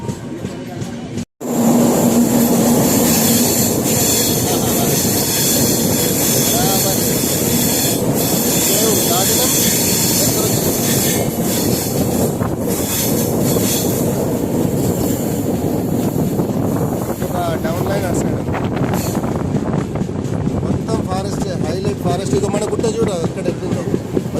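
Train on the Karimnagar to Bhopal journey running at speed, a loud sustained rumble with rail-joint clatter and brief wheel squeal, a short dropout near the start, then steady noise continuing to the end.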